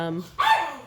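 A dog gives a single sharp bark near an indoor recording, sudden and loud, preceded by a brief voice.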